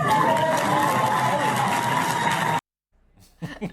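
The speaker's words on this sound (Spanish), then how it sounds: "La gente aplaudiendo." Applause and crowd noise fill a parliament session chamber, a dense steady wash of clapping and voices that cuts off abruptly, followed by faint murmuring and a brief voice.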